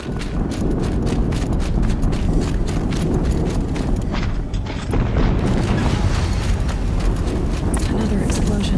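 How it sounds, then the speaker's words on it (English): Another explosion in Horizon Zero Dawn gameplay: a sudden boom near the middle cuts through a busy, steady bed of pounding, clopping game effects, with a voice talking over it. "Another explosion."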